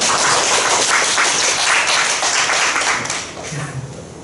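Church congregation clapping during a Sunday worship service, a steady burst of hand claps that thins and fades toward the end, with a faint voice near the close.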